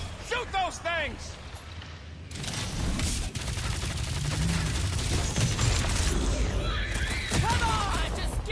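Sustained gunfire and explosive bursts fill a fight in Guardians of the Galaxy, loud and dense, with characters shouting over the shooting throughout.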